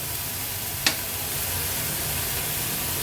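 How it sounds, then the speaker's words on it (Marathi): Baby shrimp with masala being sautéed in a pan, giving a steady hissing sizzle with one brief sharp stir or clink near the start, close and even. "हा पण आपल्याला परतून घ्यायचा आहे अगदी अर्ध्या मिनिटासाठी"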